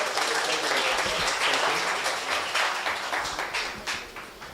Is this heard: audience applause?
yes